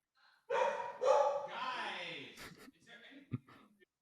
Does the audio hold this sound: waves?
no